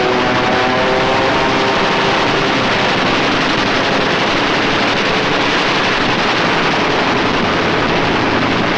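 Aircraft strafing German troops in World War II, with machine gun fire over a roaring engine drone, a dense, loud, unbroken wash of noise lasting the whole stretch.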